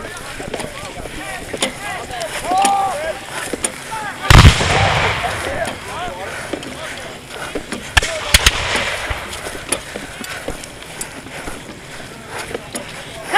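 Muskets fire a volley at a Battle of Monmouth reenactment skirmish, one loud sharp crack followed by a few scattered later shots, outdoors with people talking and shouted commands around it.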